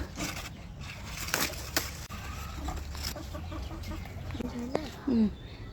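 Roosters on a farm near a cauliflower patch cluck and call in short bursts, with rustling and scratching between, ending in louder clucks close by; no talk over them.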